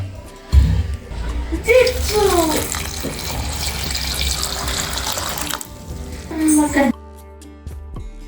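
Basmati rice being washed by hand in water: sloshing and swirling splashes with dripping and running water, heard close, with a voice speaking over parts of it.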